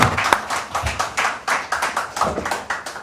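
Applause from a seminar audience, a series of separate clap bursts with brief gaps between them, moderately near.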